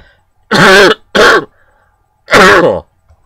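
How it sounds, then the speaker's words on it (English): Three harsh throat-clearing coughs come close up, two in quick succession and then one after a pause, with silence in between. "Not a nice cough."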